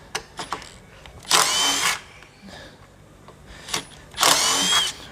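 Two bursts of a power drill whirring at high speed, each about half a second to a second long, separated by quiet clicks and handling noises.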